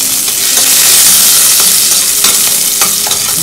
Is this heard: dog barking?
no